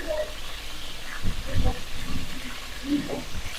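Chicken curry fries in a pan with a steady, low sizzling hiss that runs throughout, while a person talks over it.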